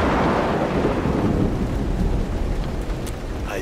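Rain pours steadily in Road 96 while a deep roll of thunder rumbles loudly at the start and fades, the downpour continuing alone.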